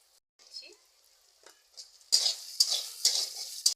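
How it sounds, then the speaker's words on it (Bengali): Eggplant pieces frying in hot oil with dried chili and cumin, starting as faint scattered crackles and then breaking into a loud, bright sizzle in repeated surges as the vegetable hits the pan. "এবার তেলের উপরে বেগুনটা দিয়ে দিচ্ছি"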